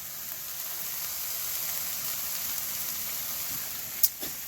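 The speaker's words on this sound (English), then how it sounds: "A little ASMR sizzle for you." Steady, even sizzling hiss of sausage and peppers frying in a pan, with a couple of brief clinks near the end.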